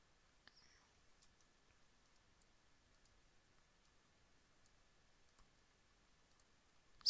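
A computer mouse clicking while building in Roblox Studio: sparse, faint, close clicks spread over near silence, ending with one sharper, louder click.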